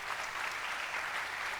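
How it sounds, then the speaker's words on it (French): Audience applause at a conference panel on digitalisation and youth employment, a brief, even wash of clapping from a seated crowd. "Vous faites bien de l'applaudir"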